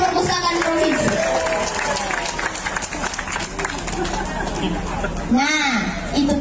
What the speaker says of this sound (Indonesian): tepuk tangan dulu untuk kadisnya perpustakaan provinsi